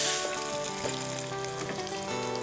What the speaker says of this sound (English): So we're going to give this pancetta about 5 minutes to caramelize and then add the onions.